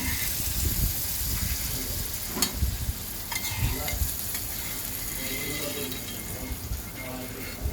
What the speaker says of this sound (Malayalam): നമ്മുടെ കശുവണ്ടി വറുത്തത് അങ്ങനെ ഇട്ടുകൊണ്ടിരിക്കുകയാണ്